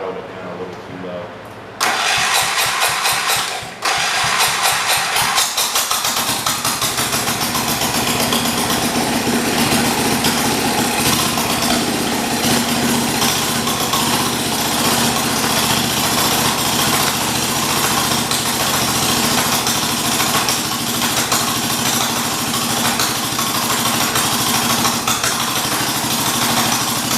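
A 1978 John Deere 208 garden tractor engine cranks and catches after sitting three years, then settles into a loud, steady, slightly low idle close by, with a voice talking briefly under it.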